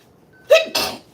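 A single sharp sneeze in two bursts, a quick intake then an explosive release, close and fairly loud against a quiet background.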